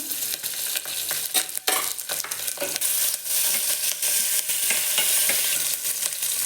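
Cumin seeds and chopped green chillies fry in hot oil in a pan, a loud steady sizzle broken by frequent stirring scrapes and clatters, close up and with no voices.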